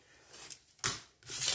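Part of a paper lantern being cut with scissors, with two short snipping crunches of paper, close but quiet.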